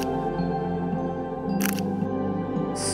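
Fujifilm X-T3 mirrorless camera firing its fast motor drive, with a quick burst of crisp shutter clicks standing out over a steady background hum.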